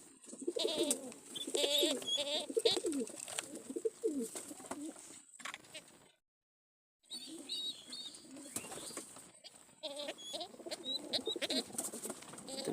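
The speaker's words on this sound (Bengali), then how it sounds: "দেখেন কবুতরগুলো দেখেন কি অসুবিধার মধ্যে" Pigeons bitten by mosquitoes coo in low, throaty, repeated phrases close by, with soft wing flutters and rustles and one brief silent gap midway.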